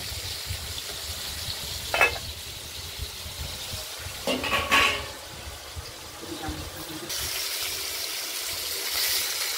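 Pieces of katla fish fry in a pan for a home-style curry, giving a steady low sizzle with brief spatters and scraping clinks. No one speaks.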